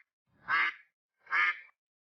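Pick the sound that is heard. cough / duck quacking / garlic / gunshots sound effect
duck quacking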